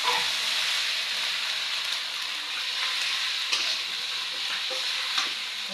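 Garlic, ginger and cumin paste fries in a pan with a dense, continuous sizzle. Faint scrapes and taps from stirring sit over it.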